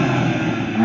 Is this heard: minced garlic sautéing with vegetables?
no